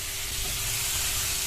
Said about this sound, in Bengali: তবে তেল দিয়ে বেরেস্তাটা ভাজবো না, শুকনো ভাজবো।